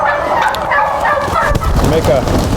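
Turkey hen of about 23 pounds in a ventilated curtain barn on a turkey farm, giving fowl gobbling and clucking calls amid a busy flock, with someone talking over the birds.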